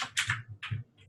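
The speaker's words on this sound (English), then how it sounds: "I'm going to copy stuff from below and hopefully put it up here while Lubomir's typing" Quick bursts of keystrokes on a computer keyboard during a video call, several sharp clicks in uneven clusters, close and clear with no voices over them.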